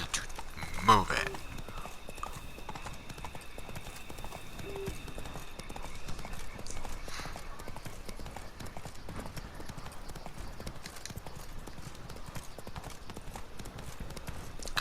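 Roach the horse trots with hooves clip-clopping in The Witcher 3 video game, a faint steady rhythmic patter under occasional speech.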